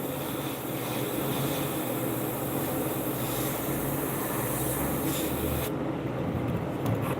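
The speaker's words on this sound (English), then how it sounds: "they are spraying really nice right now" Airbrush spraying paint onto a stripped bass guitar, a steady close hiss of compressed air that runs continuously and then cuts off sharply near the end.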